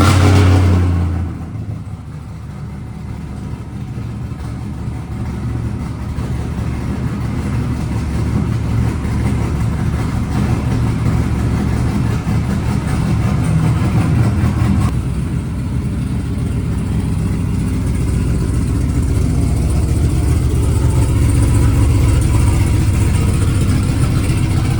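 Supercharged Sierra race truck engine turns over and settles into a loud, rumbling run, holding a steady throaty idle with slight swells in intensity over roughly twenty seconds, close by and with no one talking.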